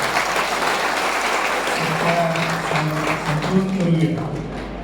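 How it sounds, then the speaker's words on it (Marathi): An audience at a political gathering claps loudly in a sustained round of applause, with a voice faintly carrying through the clapping. "त्याच्याबद्दल आपण खास करून एका जोरात टाळी वाजून करूया"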